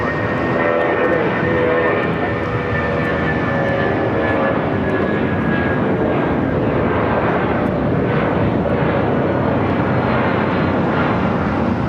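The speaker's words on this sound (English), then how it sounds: "Next takeoff here on the south side." An airliner takes off from the south side of LAX, its engines a broad, steady roar that holds loud and unbroken throughout at a distance.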